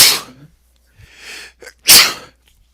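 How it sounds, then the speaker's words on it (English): Two sharp sneezes, the first right at the start and a louder one near the end, with a soft breath between them; close and explosive. "should I go back and edit out my sneezes?"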